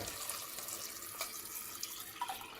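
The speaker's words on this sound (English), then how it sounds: "So I'm going to add more water to it." Tap water runs steadily from a faucet into a cooking pot of rinsed chickpeas, a continuous splashing hiss with slight gurgles and a few louder drips near the end, close by and alone.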